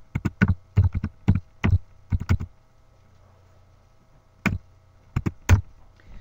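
Typing a domain name on a computer keyboard, quick clusters of crisp key clicks in two bursts with a pause of about two seconds between them, close and clear with no talk.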